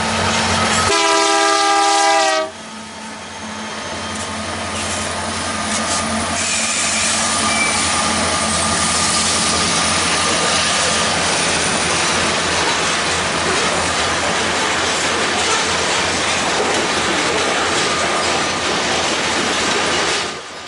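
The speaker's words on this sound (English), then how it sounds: "L550 is one of the trains that can traverse the CN Brazeau sub." A CN freight train, the L550 Prentice Joffre Turn on the Brazeau subdivision, sounds a loud, close horn for about two seconds. A sustained roar of the passing train follows, with rumbling wheels and railcars and no talk.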